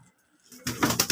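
Pet pigeons cooing close by, a few soft throaty coos arriving after a quiet start.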